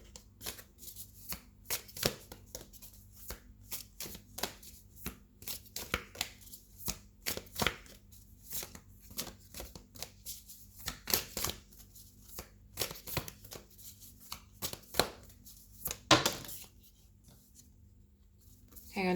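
Tarot cards riffle and slap together in repeated close shuffles, with brief pauses between bursts and a sharper flurry near the end as several cards spill from the deck.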